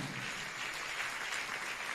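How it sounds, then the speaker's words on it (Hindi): Audience applause at a Jain religious gathering, a dense, continuous patter of many people clapping, fairly soft and steady with no breaks. "जोरदार तालियों के साथ अनुमोदना करें।"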